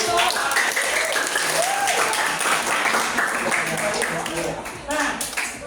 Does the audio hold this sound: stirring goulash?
no